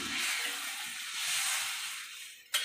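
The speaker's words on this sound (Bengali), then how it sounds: "এবার মশলাটা ভাজা হয়ে গেছে, এবার আমি জল দিয়ে দিচ্ছি।" Water poured into spiced masala frying in a hot pan for a Bengali fish curry sets off a loud, steady hiss of sizzling steam that slowly eases, ending with a short sharp knock.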